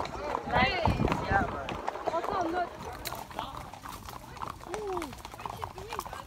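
Horse hooves clip-clop during a ride through the Jamaican jungle, a steady near footfall rhythm mixed with rustling, while people talk and laugh over it and a faint whinny-like call rises near the end.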